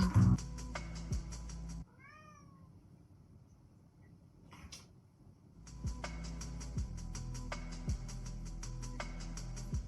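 A cat meows a few times, short rising cries during a quieter stretch, surrounded by loud steady droning music-like background before and after.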